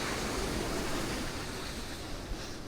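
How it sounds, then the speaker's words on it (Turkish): Sea waves about one and a half metres high wash steadily and close, a continuous broadband roar of surf mixed with wind buffeting the microphone, heard alone with no talk. "gördüğünüz gibi bir buçuk metrelik dalgalar"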